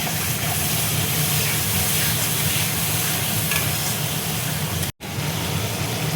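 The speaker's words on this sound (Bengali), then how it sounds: "অল্প করে দেখো জল দিচ্ছি," A splash of water hits cumin and coriander powder frying in a pan, producing a loud, continuous hissing sizzle that runs nearly the whole time, broken by one brief gap near the end, with no talking.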